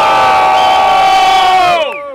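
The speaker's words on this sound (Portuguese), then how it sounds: "Só quem gostou do meu mano Johnny, faz barulho, Botafogo." A crowd at a hip-hop battle final in Botafogo roars with loud cheers, whoops and shouts, sustained and close, then drops off sharply at the end.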